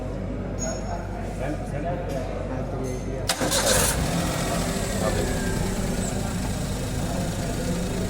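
A car engine cranks on its self starter and catches, with a burst of starter noise that settles into a running engine. It is heard close, in a workshop setting with background noise.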